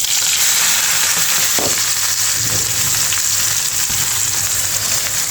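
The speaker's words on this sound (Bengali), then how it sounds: "এখন শাক বাগার দিয়ে নেব, তো সেই জন্য রসুন ফ্রাই করছি" Garlic and red amaranth greens frying in hot oil give a steady, loud sizzle with a few soft stirring knocks, close and continuous throughout, with no voices.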